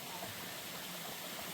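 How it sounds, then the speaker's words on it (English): Eureka Creek along the Appalachian Trail near the Delaware Water Gap, a quiet, steady rush of flowing water with an even, continuous babble. "Been a long time since we've seen a creek."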